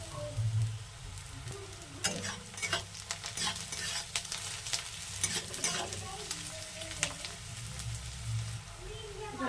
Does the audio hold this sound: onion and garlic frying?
yes